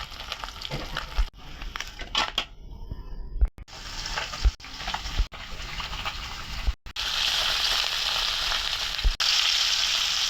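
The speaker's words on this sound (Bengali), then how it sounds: "মাছ ভাজা শেষ।" Hot oil sizzles around frying tengra fish, with occasional clicks and brief breaks, then a louder, steadier hiss toward the end.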